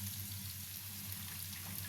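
Onions frying in hot oil in a pan make a soft, even crackle and spatter under a low steady hum, faint and continuous for the whole short stretch, with no voices.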